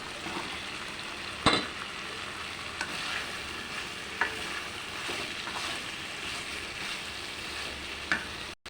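Vegetable stems frying with ginger, cumin, green chilli and turmeric paste in a pan, a steady close sizzle with occasional sharp spoon knocks and scrapes as they are stirred, no talking.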